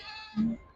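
A single goat bleats once at a goat market in Miryalaguda, Telangana, a short nasal call rising over a steady background murmur.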